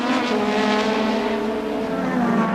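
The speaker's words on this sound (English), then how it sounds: "He gives it a welly full of power, and that is some 850 horsepower." Michele Alboreto's 850-horsepower Formula 1 car, 1986 Hungarian Grand Prix, screaming as it accelerates out of a pit stop, a loud sustained high engine whine rising in pitch.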